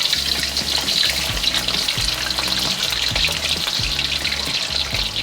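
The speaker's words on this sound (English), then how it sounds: "It's the perfect temperature to fry these potatoes." Potatoes deep frying in oil at about 350 degrees Fahrenheit, a loud, steady, dense bubbling crackle with a hiss that carries unbroken from start to finish, with no voices over it.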